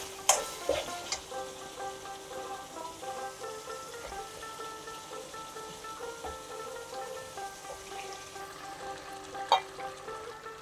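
Chicken pieces dropped into oil with onions browned over medium heat for restaurant-style chicken rezala, a continuous moderate sizzle with a few sharp clatters of pieces and utensil against the pan.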